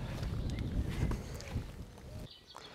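Strong wind buffeting outdoors, a loud rumbling roar of gusts against the microphone that eases off slightly near the end, with no voices.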